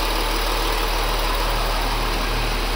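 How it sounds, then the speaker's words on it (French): Steady engine idle from a VW Phaeton running during a gearbox oil change, a constant low hum and hiss at even loudness with no speech. "Évidemment, toujours moteur tournant."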